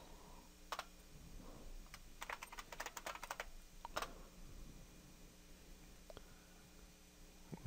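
A sudo command typed on a computer keyboard while an LX terminal is open on an Ubuntu server: a burst of quick key clicks around the middle, with a few isolated taps before and after, close and fairly quiet.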